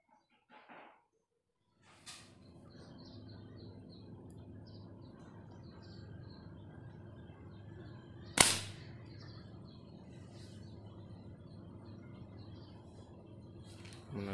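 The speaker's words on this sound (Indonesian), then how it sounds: "Coba kita tes tembak. Beginilah suaranya." A homemade PVC pipe spear gun for fishing fires a single sharp, loud snap midway, standing out against a steady low background hum, with a few faint clicks before it.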